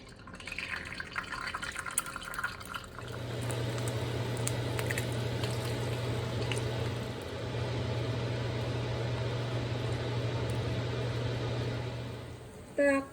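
Two eggs fry in a pan after broccoli, a steady close sizzle that starts suddenly and holds evenly for about ten seconds, with a brief clatter at the end.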